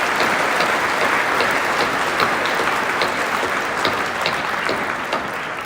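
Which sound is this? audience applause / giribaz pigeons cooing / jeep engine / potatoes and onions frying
audience applause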